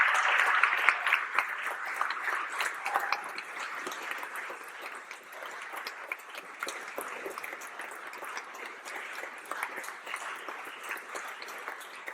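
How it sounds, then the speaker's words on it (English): Sustained audience applause at a school staff training day, a dense steady clatter of many hands lasting throughout, loudest at the start and easing slightly while remaining continuous. "come down to the front and get a round of applause"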